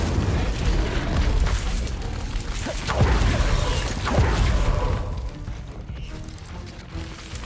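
A fire spell cast in the Hogwarts Legacy video game, heard as a loud, sustained rushing roar with booming bursts at a steady level for several seconds, thinning out toward the end.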